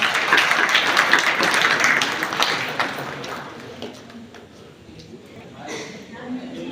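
Audience applause at a Vishwakarma Jayanti welcome ceremony, a dense wash of clapping that is loudest at the start and thins out, with voices talking over it.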